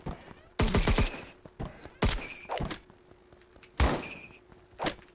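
Shotgun blasts in the video game Season's Beatings come as four or five loud, separate booms spaced unevenly over a few seconds, each with a short ringing tail, with no talking.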